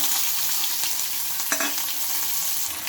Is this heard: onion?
yes